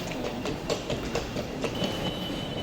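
Train sounds at a German railway station: steady rolling rumble with repeated clickety-clack wheel beats, fairly close and continuous, no talking.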